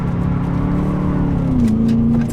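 A BMW M3 E92 revs hard while drifting, its engine holding a loud, close, steady howl with a brief pitch dip and recovery near the end, faint tyre hiss above.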